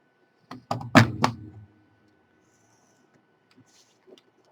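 Cardstock on a scoring board being punched along a score line: a quick cluster of four firm, hollow thunks close by, followed by near silence with a few faint small clicks.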